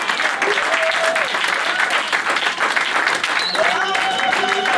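A church congregation applauding steadily in a lively worship service, loud sustained clapping throughout, with voices and singing tones mixed in over the crowd.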